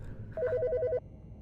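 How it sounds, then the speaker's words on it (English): A telephone rings in the Autopsy Simulator PC game, one short burst of rapid, regular electronic trilling that stands out clearly over a quiet background and then stops. "The fucking phone."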